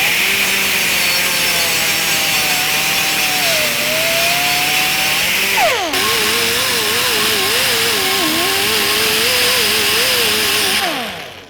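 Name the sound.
sanding a weld on a car grille shell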